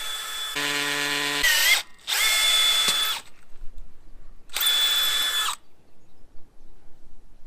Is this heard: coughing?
no